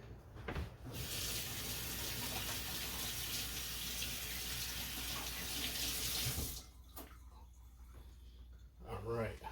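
A kitchen sink tap runs water in a steady loud gush for about six seconds before shutting off, followed by quieter handling sounds and a voice speaking.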